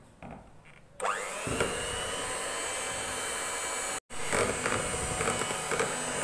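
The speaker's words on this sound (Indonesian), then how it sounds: "Kita mixer lagi dengan kecepatan rendah asal tercampur saja." An electric mixer runs at low speed through banana cake batter, a loud steady whine that starts after a second, cuts out briefly and then resumes, with no talking.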